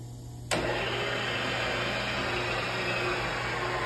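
A Sharp HMV CNC knee mill spindle spins up in low gear, starting abruptly and then running as a steady, loud mechanical whine and hum with no talking.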